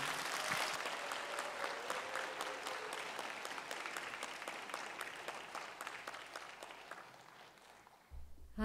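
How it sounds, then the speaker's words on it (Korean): Steady audience applause fills a church prayer meeting hall, dense clapping sustained for about eight seconds before fading, with a brief sound at the very end. "크게 박수 쳐주기 바랍니다."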